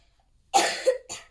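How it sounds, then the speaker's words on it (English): A child coughs twice up close, a harsh hacking cough followed by a shorter second one, with silence before. "He's had a cough."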